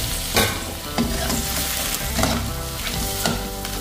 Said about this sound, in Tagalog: Tapos lagyan na po natin yung ating mga alimango. Ayan. Halo na natin.